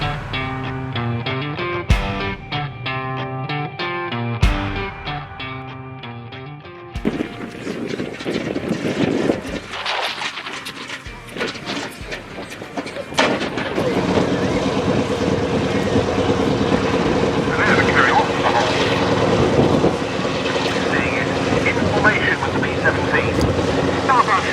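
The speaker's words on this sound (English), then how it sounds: "I have decided to leave some of the audio raw so you can hear the engines." American aircraft engines rumble at the Duxford airshow, a broad propeller drone that builds and swells louder through the second half, with crowd chatter and voices mixed underneath.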